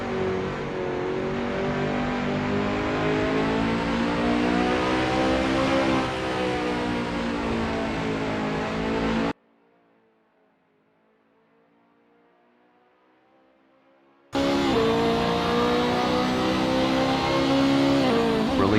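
GT race cars, including a McLaren MP4-12C and a BMW M3, lapping Mugello in the Assetto Corsa racing game, with loud, sustained engine roar and revving, broken by a few seconds of near silence before the engines return.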